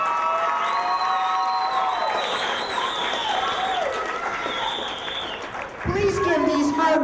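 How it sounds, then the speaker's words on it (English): Applause and cheering from an audience at an adult education GED graduation ceremony in East Hartford, a steady crowd wash with whoops and shouts, swelling again near the end. "Please give these hard-working GED graduates a big round of applause."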